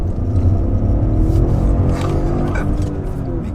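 A Toyota GR Corolla engine rumbles loudly inside the cabin as the revs blip and rise on a downshift, a continuous low growl throughout.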